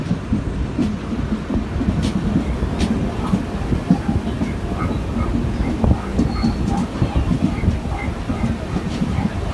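Tata Nagar express train running at speed between Ernakulam and Chennai, a steady loud rumble of wheels and carriages with faint clicks, heard from on board throughout.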